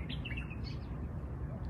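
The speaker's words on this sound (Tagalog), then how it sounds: "Tunog ng ibon lang maririnig mo" Small birds chirp in a quiet park, a few short, high tweets coming early and then fading, set against a soft, steady outdoor hum.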